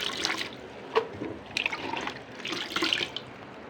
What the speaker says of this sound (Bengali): পাট শাকটাকে ভালো করে ধুয়ে নেব।